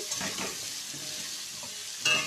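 Hog plums (amra) fry in hot oil for a pickle, a bright steady sizzle with faint stirring scrapes and a brief louder clink near the end, no voices.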